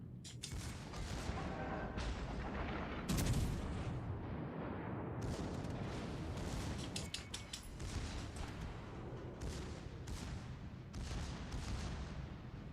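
Warship main guns firing during a World of Warships Legends naval battle, heavy booming salvos and blasts repeating throughout amid dense, loud, continuous battle noise with no talk.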